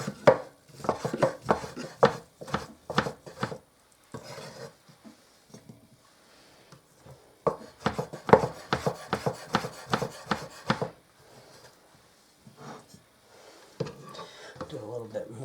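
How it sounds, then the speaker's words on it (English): Knife chopping cooked turkey on a cutting board, bursts of rapid, sharp close chops separated by pauses, with a person talking between and over the cutting. "it's real easy to chop up"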